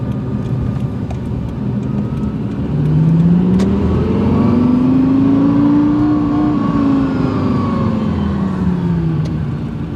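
A Lexus LFA supercar engine revs nearby, its pitch climbing smoothly to a sustained high wail and easing back down, loud and continuous with no voices.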